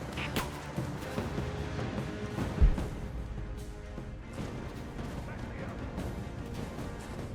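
Gunfire from a firefight in the video game Rise of the Tomb Raider, scattered booming shots with one sharp, heavy blast standing out amid a rumbling battle background.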